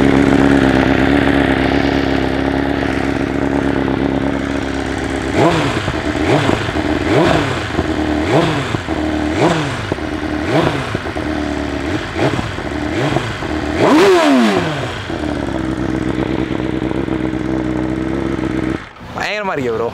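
BMW S1000RR inline four-cylinder superbike with aftermarket exhaust, loud close rumble with a series of quick throttle blips climbing and falling, then a longer rising rev before settling back to idle; someone talks over it.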